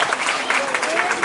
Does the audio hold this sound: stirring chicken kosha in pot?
no